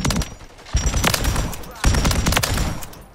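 Bursts of PULEMYOT 762 light machine gun fire in Modern Warfare 3, two loud sustained volleys with heavy rapid reports, the second starting about halfway through and running to the end.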